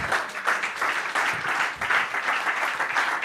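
An audience in a church gives steady, fairly loud applause, a dense patter of clapping that continues throughout without pauses.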